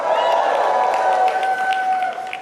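Loud, sustained audience applause and crowd noise fill a large hall at a Turning Point USA student political rally in Tampa, Florida, steady throughout and easing slightly at the end.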